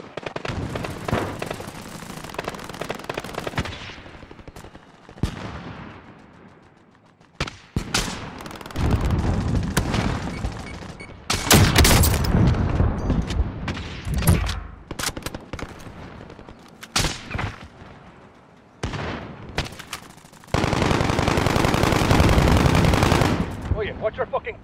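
Heavy automatic gunfire from a Call of Duty: Modern Warfare match on a domination point, long loud bursts of rapid shots broken by brief pauses, with a few sharper single cracks and blasts throughout.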